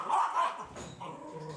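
A stray dog barks and growls as police and pound agents impound it in a Cayenne neighborhood, a couple of rough nearby barks followed by lower growling noise, moderately loud.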